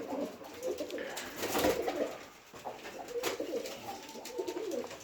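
Pigeons coo steadily and close by in a village loft, soft throaty calls overlapping one another with light rustling, and no talk.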